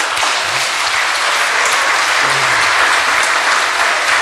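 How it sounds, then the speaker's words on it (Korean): A large audience at a Korean religious sermon gathering gives a sustained round of applause, loud, dense and steady throughout, with no speech over it. "뜨거운 박수로 참모님께 감사의 경화를 올리겠습니다."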